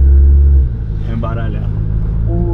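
A tuned Audi A3 with 280 cv and a DSG gearbox drops from a loud low engine drone to a lighter rumble as the throttle is released, heard from inside the car while people talk over it.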